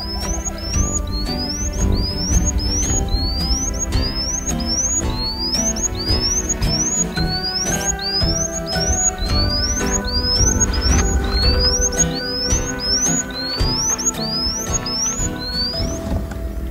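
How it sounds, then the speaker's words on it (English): Territorial song of a lark, a long run of quick rising whistled chirps repeating about every half second, clear and fairly loud over a steady bed of music. "it is Mr. Lark himself, putting on a territorial display of aerobatics and instrumental music with much whistling and trilling"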